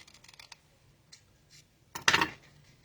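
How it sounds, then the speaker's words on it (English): Scissors trimming paper for an Easter candy box: a few faint snips early, then one louder, close crisp cut near the end, with no talk. "I'm just going to trim this"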